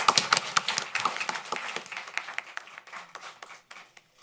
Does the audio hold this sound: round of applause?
yes